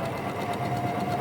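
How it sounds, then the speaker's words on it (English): A Janome FD206 or RE1306 sewing machine set to a longer stitch runs steadily and close by, giving a continuous mechanical hum with no talking. "So I've just turned the machine onto B, and this will do a longer stitch."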